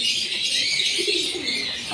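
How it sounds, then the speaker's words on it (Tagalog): Soft cooing of racing pigeons at feeding time in their loft, with faint chirps, a steady bird chorus close by with no talking. "Papakain muna tayo ng kanyang mga ibon."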